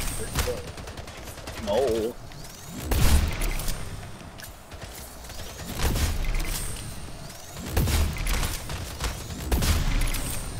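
Assault rifle fire in a goblin-themed online match, with several loud bursts of rapid shots scattered through the stretch over game noise while a player talks.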